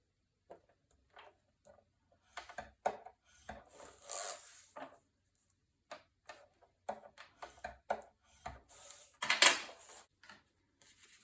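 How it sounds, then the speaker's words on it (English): Paper being scored on a scoring board at the half-inch mark for a Stamperia Magic Forest mini album, heard as scattered dry rasping strokes and light taps, close and fairly quiet, with no talk. "we're going to score this at 1/2 inch."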